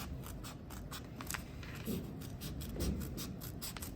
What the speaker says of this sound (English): cutting using the inside part of the scissor blade